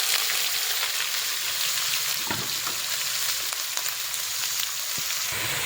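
Onions with mustard seeds and dried chilies frying in hot oil, a steady dense sizzle with occasional crackling pops and a few stirring clicks, close and continuous with no talking.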